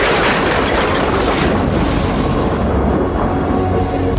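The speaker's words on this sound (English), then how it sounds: "He unleashed violent winds and rain, thunder and lightning." A violent storm at sea around a small sailboat: loud, roaring wind buffets steadily over crashing waves and spray, with broad continuous noise and a surge near the start before it settles into a constant howl.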